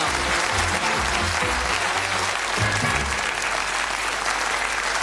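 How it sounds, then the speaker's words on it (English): A studio audience at the Bullseye game show claps warmly and continuously, a full, close wash of applause with a low rumble of crowd noise underneath. "And Anne, give them a nice round of applause for"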